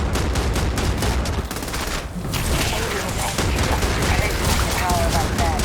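Sustained battle gunfire in the video game Starfield: dense overlapping rapid shots and bursts, loud and continuous throughout, with scattered voices and effects mixed in.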